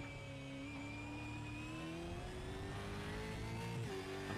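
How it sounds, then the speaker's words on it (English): A V8 race car in a sim racing game at Navarra Speed Circuit, its engine droning steadily and revving higher, with a brief dip and climb near the end, heard alone at modest volume. "I see him revving."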